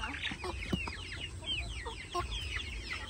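Farm chickens about three months old clucking close by, with overlapping calls and short squawks in a busy, continuous chorus outdoors.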